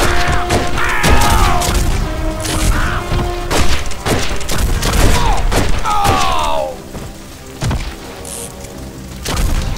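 Gunfire rings out in the Red Dead Revolver video game as loud, sharp shots and heavy thuds land between swooping tones and game effects, with a brief lull near the end.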